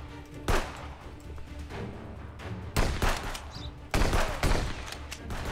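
Gunfire aimed at the player in the police-checkpoint game Contraband Police, heard as several loud bursts of shots, some in quick clusters, spread across the clip over a steady ambient background.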